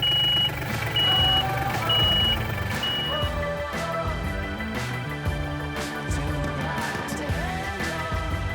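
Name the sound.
vehicle reversing into greenhouse, reversing beeps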